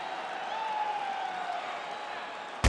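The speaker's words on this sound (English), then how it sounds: "So the crowd voicing its appreciation after that round." A crowd in the UFC 5 video game applauds and murmurs after a round, a steady, even wash of clapping and voices at moderate distance ending in a sudden louder burst.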